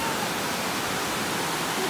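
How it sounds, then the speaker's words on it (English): A waterfall roars as a steady, dense broadband rush of falling water, loud and unbroken for the whole stretch, with no other distinct sounds standing out. "The waterfall."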